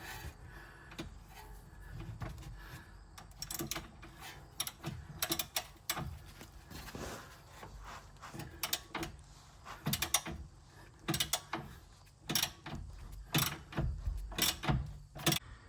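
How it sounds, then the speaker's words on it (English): A ratchet with a 19mm six-point socket works on a lower control arm bolt of a Honda Odyssey, producing bursts of rapid clicking and clunks of metal tools at close range. "So I opted to grab my ratchet and the 19mm socket, 6-pointer."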